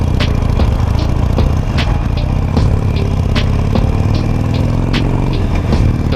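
Harley-Davidson Nightster motorcycle with an opened-up exhaust running steadily, a loud, close, throbbing engine rumble with periodic sharp ticks over it, heard alone without talk.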